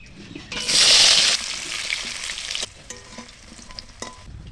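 Sliced potatoes and raw plantain sizzle in hot mustard oil, a loud burst of frying hiss that settles into softer crackling while a spatula stirs and scrapes the pan.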